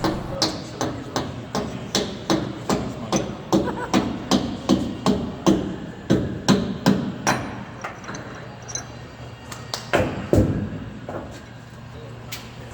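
Rapid metal hammer strikes on the port wing of Lancaster bomber NX611 during restoration, a steady run of sharp, loud blows that becomes sparser and irregular toward the end, with workshop background noise.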